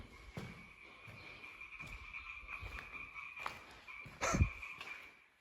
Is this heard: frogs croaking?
yes